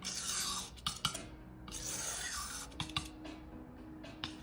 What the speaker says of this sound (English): we're gonna scrape in. And we're gonna give it one more mull out